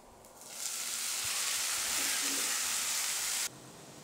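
Spinach drops into hot oil already crackling with mustard seeds, cumin and garlic, bursting into a loud steady sizzle that holds for about three seconds, then cuts back to a quieter simmer.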